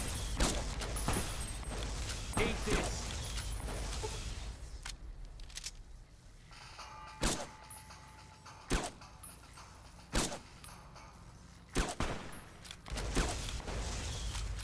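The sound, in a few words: gunfire from a rifle in the video game Fallout: New Vegas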